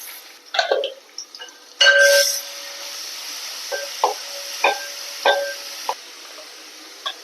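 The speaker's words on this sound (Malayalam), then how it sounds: "ഇനി നമുക്ക് ചതച്ച് വെച്ച് ഇഞ്ചി പച്ചമുളക് വെളുത്തുള്ളിയും കൂടിയുള്ളത് ഇട്ട് കൊടുക്കുക" Crushed ginger, green chili and garlic drop into a hot frying pan for chicken biryani, giving a bright sizzle followed by several short scraping stirs and clinks of a utensil against the pan.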